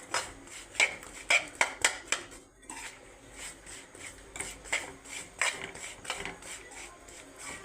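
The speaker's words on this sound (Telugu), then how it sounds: "ఇప్పుడు ఈ పాకంలోకి మనము పప్పులు శనగిత్తనాలు వేసుకుందామండి. శనగిత్తనాలు వేసి బాగా మిక్స్ చేసుకుంటే సరిపోతుందండి." Peanuts are mixed into hot sugar syrup in a metal pan for homemade sweets, the spoon scraping and clattering against the pan in quick repeated strokes, close and fairly loud with a short pause partway.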